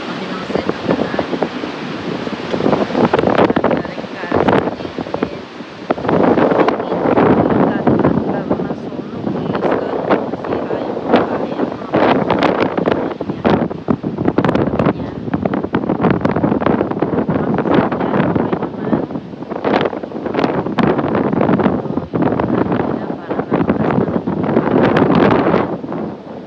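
Strong wind from Typhoon Sinlaku in Guam roars and buffets the microphone continuously with gusting surges, loud and close, with faint voices under the noise.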